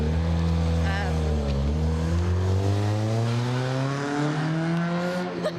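Cars drive past on a residential street in Boulder, their engines a steady close drone that rises and falls, with people talking over the traffic.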